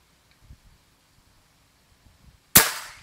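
A quiet pause with faint rustling, then a single sharp air rifle shot cracks nearby and trails off with a short, hissing decay.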